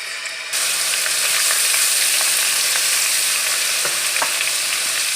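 Chicken sizzles and fries hard in oil with ginger-garlic paste in a kadhai, a loud, steady crackling hiss that bursts in abruptly after a brief quiet start, with occasional stirring clicks.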